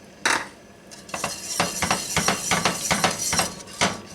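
A spoon stirring dry wine into a thickening clam alfredo sauce in a pot, producing a rapid run of close metallic clinks and scrapes against the pot.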